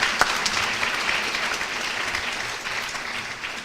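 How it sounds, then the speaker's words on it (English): A banquet audience applauds the EAGLE Award finalists at an awards luncheon, a steady, full round of clapping that holds for several seconds before easing slightly. "Another round of applause for our EAGLE finalists."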